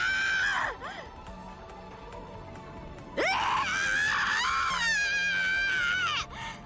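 A character screams in the visual novel game Umineko When They Cry, two long, loud, wailing shrieks separated by a short quieter pause, each held for a few seconds before breaking off.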